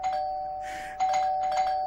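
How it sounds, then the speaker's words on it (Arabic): A doorbell at a home's front door in a Syrian TV drama gives a clear two-tone ding-dong, fairly quiet and close, with a short pause between the chimes and no voices. "بس الجرس الباب عم برن"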